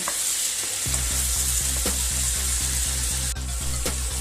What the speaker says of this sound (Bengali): এইভাবে আরো 10 মিনিট আমি নাড়াচাড়া করব।